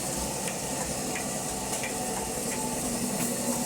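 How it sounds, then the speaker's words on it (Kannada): A flour mill grinds grain in a small shop, making a steady, dense whirring roar that runs unbroken throughout, with faint rhythmic ticks riding on top and no voices. "ಹಿಟ್ಟು ಬೀಸುವ ಯಂತ್ರ ಇದು ನೋಡಿ ಯಾವ ಥರ ಬೀಸುತ್ತೆ"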